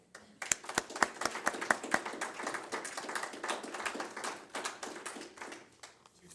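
An audience at a Kennedy Center gathering breaks into clapping, a few sharp individual claps at first swelling into dense, close applause that tapers off toward the end.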